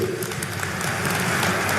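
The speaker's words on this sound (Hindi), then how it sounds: "एक बार जोर से ताली बजाइए किरण जी के लिए" A crowd at a public event in Chandigarh marking the launch of a 24x7 water supply project applauds a former MP, a dense, continuous crackle of many hands throughout.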